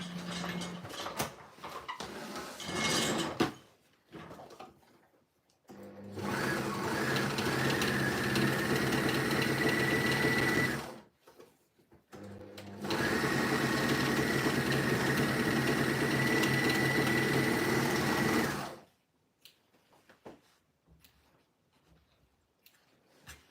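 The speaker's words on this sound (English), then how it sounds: "we are going to overlock these 2 curved edges of our pocket facing" An overlocker serging the two curved edges of denim jeans pocket facings runs in two long, steady, loud whirring bursts of about five seconds each, separated by a short pause and bracketed by quiet handling clicks.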